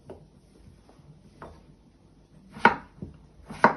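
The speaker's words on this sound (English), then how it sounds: "So you chop it down the middle," Knife chopping potatoes down the middle on a board, a few soft cuts followed by two crisp, sharp chops, close and isolated with no voice.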